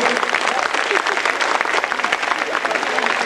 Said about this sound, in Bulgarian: Аплодисменти за двамата изпълнители на Уей Крю.